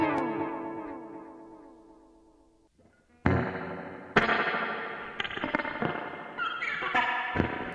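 An electric guitar played through an echo effect preset rings out in plucked notes that repeat and trail away in cascading delays, fading to near silence before new sharp attacks restart the echoing pattern.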